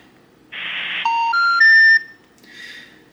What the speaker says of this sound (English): then that means that whatever phone number that you just dialed is not a valid phone number